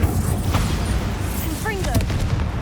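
Bombarda blasting spell cast in the Hogwarts Legacy video game: a short magical boom with bright, swooping chirps over a steady, busy game-sound bed.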